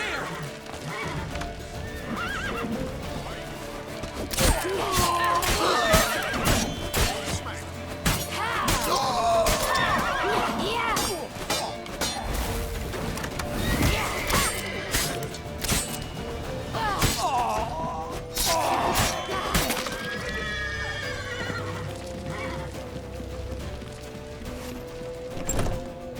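A horse in The Witcher video game neighs and whinnies repeatedly while hooves clip-clop at a gallop, with crashes and thuds scattered through a busy, continuous chase scene.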